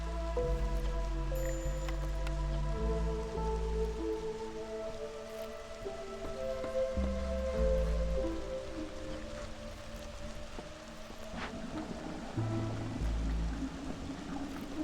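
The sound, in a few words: rain in the video game Against the Storm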